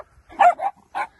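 Dogs meeting horses along an old Roman route near Glastonbury Tor give a few sharp, close barks and yips in a quick uneven burst, with short gaps between them.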